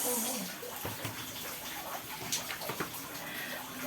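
Floodwater splashes and sloshes inside a flooded house's first floor during a typhoon, close by, with people talking underneath.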